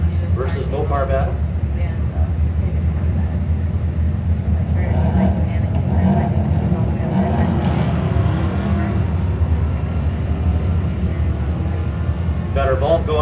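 Drag racing cars, a 1981 Chevrolet El Camino against a Mopar, roar steadily down the strip under continuous commentary from an announcer, engine noise broad and sustained throughout.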